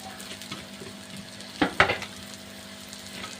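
Mango pieces hit foaming hot oil for pickle-making, giving a short burst of sizzling with a couple of sharp crackles midway, over a low steady frying hiss.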